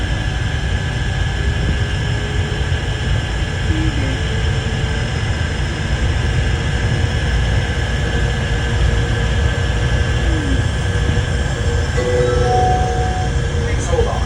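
An automated airport people mover train between concourse B and the baggage claim runs with a steady loud rumble and hum throughout, a continuous electric drone over rolling track noise.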